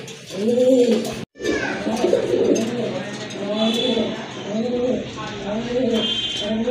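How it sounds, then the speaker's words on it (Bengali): Pigeons of Andalusian colouring cooing repeatedly close by, rhythmic low rolling coos recurring throughout, with a brief sharp break early and faint chirps above. "আরেক জোড়া কবুতর"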